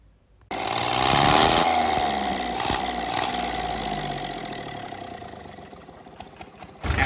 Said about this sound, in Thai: เทสการจุดระเบิดนะครับ ก็ เครื่องยนต์เครื่องนี้เป็นเครื่องยนต์เก่านอกนะครับ